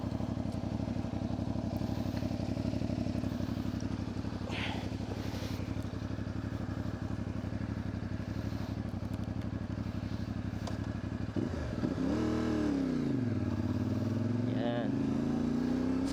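A CFMOTO 450MT motorcycle running at a steady idle or cruise gives a continuous low engine drone, with a brief rise and fall in pitch near the end, heard close and fairly quiet.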